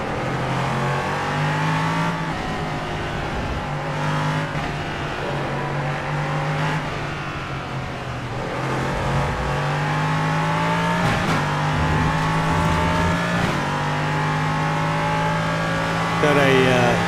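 An LMP3 prototype race car in a racing video game holds a loud, continuous engine drone with rising and falling revs through gear changes, steady and close throughout, with a voice talking in the background.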